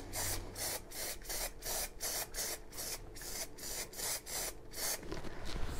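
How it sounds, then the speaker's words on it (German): Matte clear varnish hisses from an aerosol spray can in short repeated bursts, each a loud, close broadband spray separated by brief pauses, used on model railway scenery flocking. "Jetzt nehme ich mir wieder meinen matten Klarlack, sprühe das schön ein."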